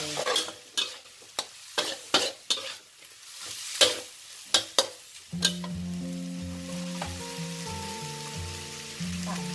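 Beaten eggs are stir-fried in a pan, with sharp, rhythmic scrapes and knocks of a spatula against the pan, followed by a louder steady sizzle as they hit the hot surface.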